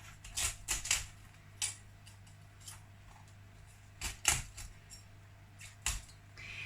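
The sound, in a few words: cutting leaves off a cauliflower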